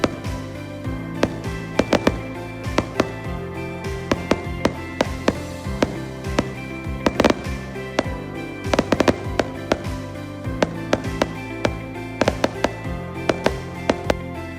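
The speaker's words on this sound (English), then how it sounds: "The neighbors put on a spectacular fireworks show" A neighborhood Fourth of July fireworks show crackles and pops continuously, with frequent sharp bangs and bursts layered over a steady background of distant explosions and rumbling.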